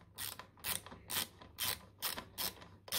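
Ratchet wrench tightening bolts on a Kinetico water softener during a rebuild, working diagonally around the flange: seven bursts of quick ratcheting clicks in a steady rhythm, close and clear with no talking.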